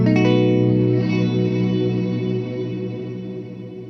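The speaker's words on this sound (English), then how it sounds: "if you just want to get some really big, reversed sounding, lush tones" A guitar runs through the modulated engine of an Encounter ambient delay and reverb pedal, one loud sustained chord swelling into a lush, reversed-sounding wash that slowly decays, no voice.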